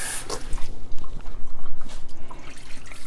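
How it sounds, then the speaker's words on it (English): Water poured into a pan of liver and onion gravy, a close splashing and dripping trickle of liquid lasting a few seconds with no voices. "add a little more water."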